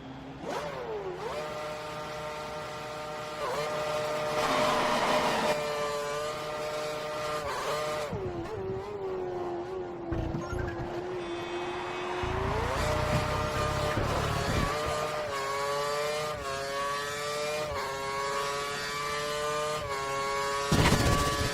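Formula One car engine in the F1 2013 racing game, a high-pitched whine that climbs through the gears in steady stepped rises, dips around a slow corner, then builds again, loud and continuous with no talk.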